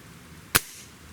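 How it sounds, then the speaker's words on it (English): A single sharp report from a Benjamin Trail NP XL .25 caliber magnum break-barrel air rifle, one crisp crack with a short decaying tail, fairly close against a quiet background. "Shot number 1."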